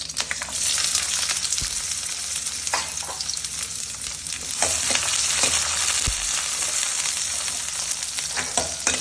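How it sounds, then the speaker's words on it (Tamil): Onions fry in oil on a hot stone griddle with a little salt, giving a continuous bright sizzle broken by a few soft knocks and stirring scrapes. No voices are heard. "எண்ணெய் ஊற்றிட்டு வெங்காயம் ஆட் பண்ணிப்போம்."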